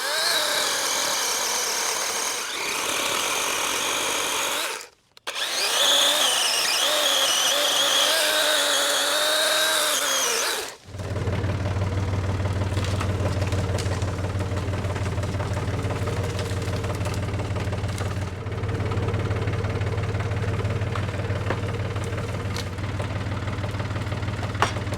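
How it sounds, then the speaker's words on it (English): A power tool, apparently a chainsaw, cutting saplings in the woods, revving loudly for about ten seconds, then dropping to a steady idling rumble. "I'm going to start by just cutting down a few of these saplings that are back in here."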